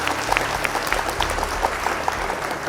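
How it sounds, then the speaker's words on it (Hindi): A quiz competition audience clapping for a correct answer, a brisk, even patter of many hands at moderate loudness, alone without talk. "तालियां हो जाए"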